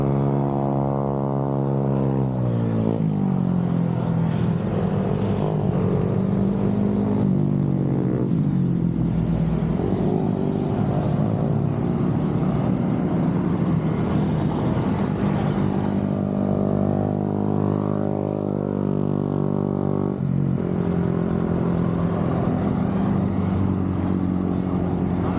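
Vehicles travel along Marilaque Highway, engines droning nearby with rising and falling pitch as they rev and pass, a continuous rush of traffic noise.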